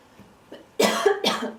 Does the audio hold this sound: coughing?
yes